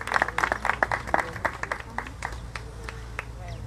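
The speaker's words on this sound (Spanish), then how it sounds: "Fuerte el aplauso para Fanny Boglione" Scattered applause at an award ceremony for urban guard agents, distinct claps from a modest audience that start lively and thin out into sparse individual claps, with a low hum underneath.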